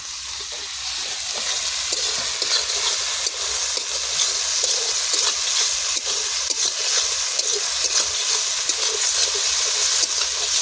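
Ginger garlic paste hitting onions frying in hot oil for a dhaba-style egg curry: a steady, loud sizzle with faint stirring taps throughout, no talking.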